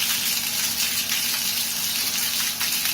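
Water gushing steadily through an Aashirwad pipe elbow fitting in a plumbing flow test, a continuous close hissing rush with no talk.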